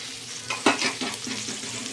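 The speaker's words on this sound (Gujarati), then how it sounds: "આ ડુંગળી સતળાઈ ગઈ છે, હવે ટામેટું નાખી દઈએ" Onion, garlic and tomato sautéing in a pan, with a soft continuous sizzle and a couple of stirring scrapes near the middle, fairly quiet and without speech.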